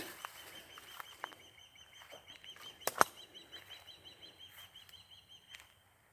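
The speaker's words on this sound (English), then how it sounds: "Birds chirping, of course." Birds in a damp redwood forest give faint scattered chirps and calls over quiet surroundings, with one sharp close crack partway through.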